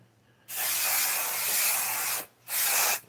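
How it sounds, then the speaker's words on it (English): Aerosol spray hisses out from a can indoors in two bursts, a long steady blast of about two seconds followed by a shorter one, close and clear with no talking. "This little spray in there."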